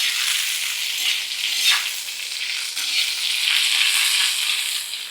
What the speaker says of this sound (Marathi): आता आपल्याला ह्याच्यात ही कोथिंबीर टाकायची आणि कोथिंबीर पण जरा परतवून घ्यायची